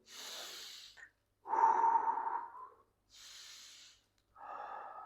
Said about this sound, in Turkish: Nefes uzun, yavaş alıyorum.